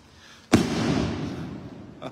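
Fireworks rockets burst with one sharp, loud crack at a street festival in Sahuayo, then a rumbling, crackling tail of noise lingers for over a second before fading.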